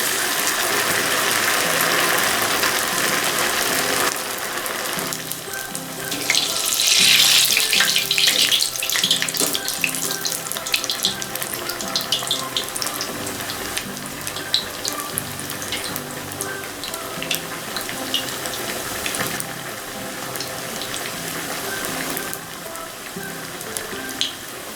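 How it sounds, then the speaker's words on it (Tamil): Chicken cabbage rolls deep-frying in hot oil make a loud, steady, bubbling crackle that runs unbroken for the whole stretch, with small pops scattered throughout. "இப்போ நம்ம எண்ணெயில் போட்டு பொரிச்சு எடுத்துடலாம்."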